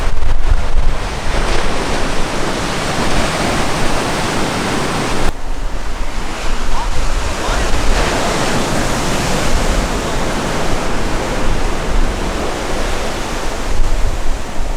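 Ocean surf at Laguna Beach rolls and washes continuously in a dense, roaring hiss, with wind buffeting the microphone throughout and no voices.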